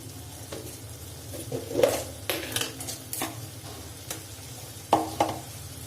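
Tomato chutney being stirred in a pan, with soft scraping strokes and occasional clinks over a low, steady sizzle, close and fairly quiet.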